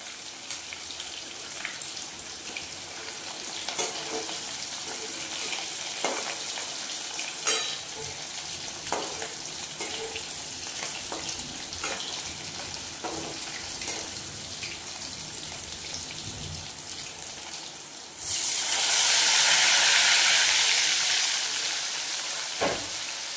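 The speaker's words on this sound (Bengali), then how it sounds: "এর ভিতরে এবার দিয়ে দেবো সর্ষে বাটা, হলুদ গুঁড়ো আর লঙ্কা গুঁড়ো আর নুন।" Hilsa fish frying in a pan with mustard paste, turmeric powder, chili powder and salt gives off a continuous crackling sizzle with scattered pops and clinks, then swells into a louder, hissing surge near the end.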